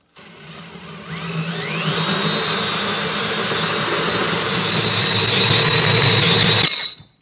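A power cutting tool, probably an angle grinder, cuts the front pulley off a mower. It spins up to a loud, high, whining roar, grinds steadily for several seconds, then shuts off abruptly.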